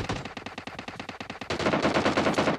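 Rapid bursts of AKM rifle fire in PUBG Mobile, about a dozen sharp evenly spaced shots followed by a denser, louder stretch of gunfire, close and with no talk.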